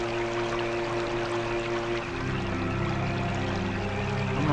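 Water pouring and splashing continuously as a character swims in the video game American McGee's Alice, a steady close wash with layered watery tones shifting midway.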